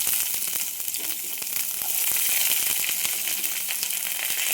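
Shallots, garlic and curry leaves fry in hot coconut oil with a steady, close sizzle and scattered crackling pops, continuing evenly without any voices.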